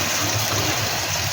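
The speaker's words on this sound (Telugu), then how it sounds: "ఇంట్లోకి కొంచెం వాటర్ యాడ్ చేసుకోవాలి." Water poured into a cooking pan for a vegetarian egg-masala gravy, a short, steady, close rushing splash with no break.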